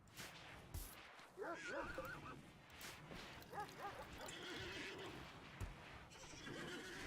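Horses neigh and whinny repeatedly in the RimWorld video game, several distinct calls spaced across the clip over a low background bed with occasional thumps.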